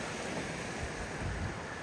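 Swift river water rushes through the rocky floor of Tallulah Gorge in northeast Georgia, a steady, loud broadband roar with no breaks or talk.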